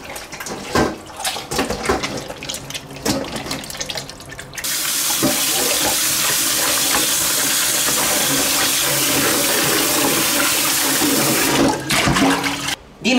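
Pork stomach being rinsed clean with flour and vinegar under a running tap: scattered wet handling and splashes, then a loud, steady rush of water that runs for several seconds before cutting off near the end.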